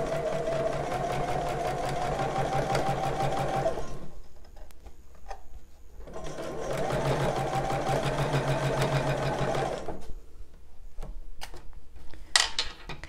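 Sewing machine stitching the curved seam of a bra, running in two steady bursts of several seconds each with a pause between, then stopping with small clicks and handling sounds.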